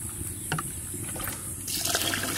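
Measured water and milk pour into a pot of rice for a village-style chicken pulao, a short, close trickling splash that grows louder and fuller near the end.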